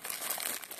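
Plastic wrapping around a US Army MRE ration pack crinkles and crackles in a brief, close, quiet burst of rustling.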